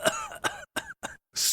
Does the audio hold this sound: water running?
no